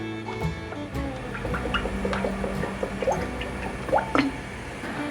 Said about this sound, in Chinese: 锅内倒入多一点的油